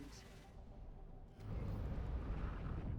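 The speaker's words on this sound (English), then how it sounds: "Explosion imminent." A deep, rumbling explosion in the space game X4 Foundations swells up suddenly partway through and holds as a sustained low roar, following a quieter hum.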